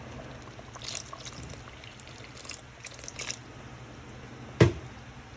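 Water trickles into simmering brown gravy in a Dutch oven on the stove, with faint bubbling and squishing sounds and a brief, sharper splash near the end, all soft and close.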